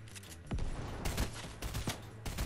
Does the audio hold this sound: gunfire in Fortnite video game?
yes